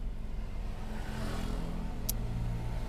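A Toyota Agya 1.0 car drives up a steep old mountain road toward Cemoro Kandang with a steady, droning engine hum and road rumble throughout, heard from inside the cabin.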